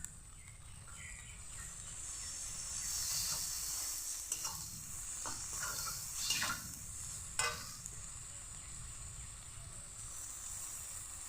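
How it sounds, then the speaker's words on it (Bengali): Spice paste with chili paste sizzling and frying steadily in a pan for a Bengali pabda fish curry with mustard and poppy seed, with occasional stirring scrapes and no talk. "ভালো করে মশলাগুলোকে কষিয়ে নিচ্ছি। এখন দিয়ে দিচ্ছি লঙ্কা বাটা,"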